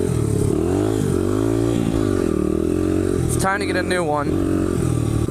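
A dirt bike engine running loud and close, holding a steady drone that rises and falls, with a sharp revving surge near the middle. Someone talks over the engine.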